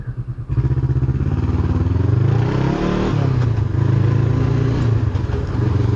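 A Honda CBR 500R sport bike revs hard and loud up close, its engine note climbing and dipping as gears are shifted up and down, with a steady roar and no voices.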